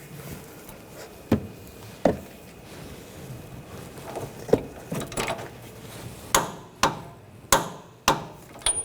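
Wrench work on a sway bar link nut on a Nissan Rogue, torqued to 72 foot-pounds: a series of sharp metallic clicks and knocks, sparse at first and then coming faster and louder near the end, with no voices.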